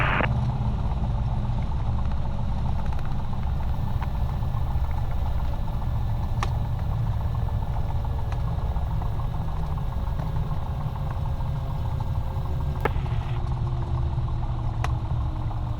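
Steady drone of a light aircraft engine during takeoff from Philadelphia International, a continuous loud, close hum with low rumble and no speech.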